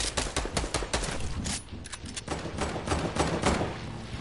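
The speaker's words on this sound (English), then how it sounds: "I'm shooting now" Rapid video game gunfire, dense bursts of shots rattling almost continuously with brief dips, loud and close, no speech over it.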